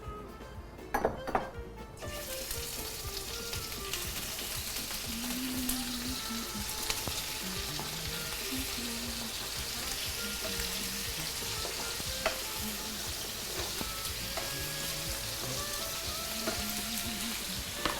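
Hot vegetable oil sizzles steadily under a steak in a pan after a few clinks of cookware at the start, the frying hiss holding even and close with occasional small pops.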